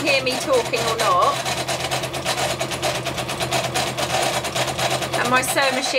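A sewing machine runs continuously with a fast rattling whir, loud and close, with a voice briefly audible over it.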